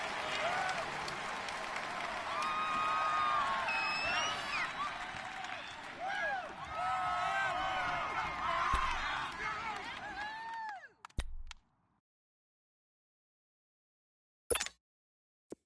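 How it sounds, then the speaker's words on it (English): A stadium crowd in Madden 19 during a Dolphins vs Bills game roars loudly with shrill whistles and cheers for about ten seconds, then cuts out abruptly, followed by a couple of brief thumps in near silence. "The crowd's not doing that O-line any favors."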